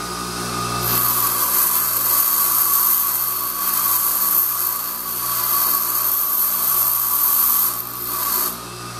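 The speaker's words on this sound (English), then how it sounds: "I'm grinding steel, so I think I'm going to jump over on this other side real quick" A bench grinder wheel grinds the steel and carbide of a single-point cast iron boring tool, a steady high-pitched whine with shifting contact that drops briefly near the end, loud and close with no talking.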